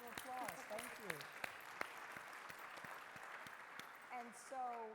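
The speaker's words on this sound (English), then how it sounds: "Let's give her a round of applause" Audience applause at a plenary session of a state housing and economic development conference, a steady broadband wash of clapping with a few sharper claps standing out, heard under a person speaking.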